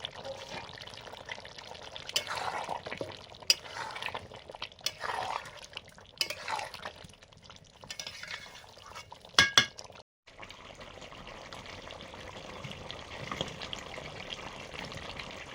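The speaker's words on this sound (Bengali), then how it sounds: "ভেজে রাখা আলুগুলো দিয়ে দিলাম।" Fried potatoes go into a pan of chicken curry with wet stirring and scraping, soft spoon clinks and a sharp clatter near the middle, followed by a steady low sizzle.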